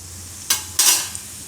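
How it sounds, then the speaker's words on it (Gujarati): Whole cumin seeds drop into hot oil and set off two short, bright bursts of sizzling, with a brief stirring scrape between them and quieter crackling afterward. "એમાં આપણે નાખીશું આખું જીરું."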